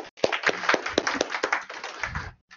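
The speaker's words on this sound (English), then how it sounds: "round of applause" A small classroom group claps briefly in a lecture on clustering numerical and text data. The sharp, separate hand claps are fairly close, thin out to a stop and end in near silence.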